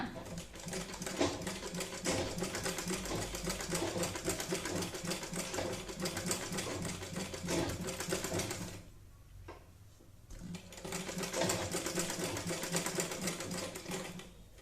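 Sewing machine stitching down the pleats of a Tikali hat, a steady continuous mechanical whir that runs loud and close, briefly dropping away near the middle before resuming.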